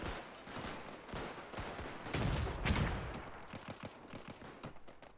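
Dense crackling machine gun and rifle fire across a WW1 battlefield in Between Empires with German Empire troops, a continuous mass of overlapping shots that swells in the middle, heard alone without voices.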